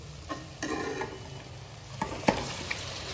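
Marinated chicken hits a pan with mango and fries, giving a steady sizzle broken by stirring scrapes and a few sharp clinks of a utensil against the pan.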